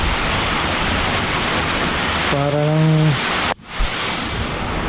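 Strong wind from a typhoon roars steadily across the whole clip as loud broadband rushing noise. A brief voice cuts in partway, and the wind drops out sharply for a moment near the end.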